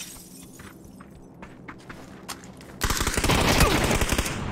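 Gunfire in PUBG: faint scattered shots and clicks at first, then a loud rapid burst of automatic fire with sharp repeated cracks filling the last seconds.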